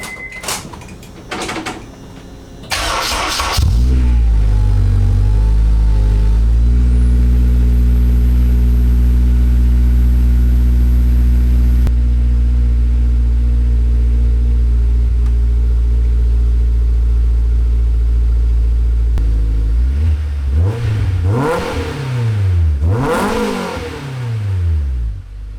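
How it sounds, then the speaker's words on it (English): A Honda S2000 with a new loud exhaust starts after a few thumps and clicks, settling into a deep, steady idle, then barks through several sharp, rising revs near the end, close and loud at night. "let's turn the S2000 on"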